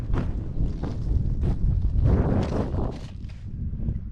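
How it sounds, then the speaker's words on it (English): Wind gusts outdoors across a frozen lake during ice fishing, buffeting the microphone in low rumbling bursts with a few faint crunching steps, continuous and close; no speech. "The wind's blowing."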